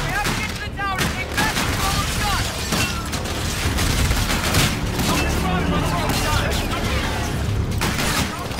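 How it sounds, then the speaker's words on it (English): Dense sci-fi gunfire from Aedis defense guns in Call of Duty: Infinite Warfare, loud and sustained with booming bursts and mechanical clatter throughout a large space battle, constant and busy with no pauses. "Zetef is using our Aedis guns to shoot down the fleet!"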